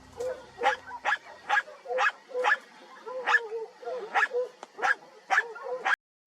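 Hunting dogs bark during a chase after wild hogs: about a dozen sharp barks and yips come in a quick, fairly regular rhythm at close range, with no other sound between them.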